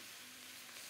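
Vegetables and green onion sizzle in a pan over a medium flame, a steady, close hiss of frying with no talking.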